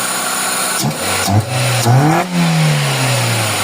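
A Toyota 4A-FE car engine with a low-power fault revs sluggishly in several strained pulls, the pitch rising weakly and sagging back to a labored drone, close by and unaccompanied.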